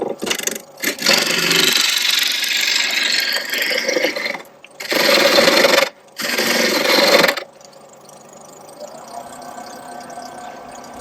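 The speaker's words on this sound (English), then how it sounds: "I'm using a 1-inch roughing gouge. I've just given it a bit of a sharpen and I shall carry on." A wood lathe runs while a 1-inch roughing gouge cuts the spinning wood, loud rasping bursts broken by short gaps, then the cutting stops and only the lathe's softer hum remains.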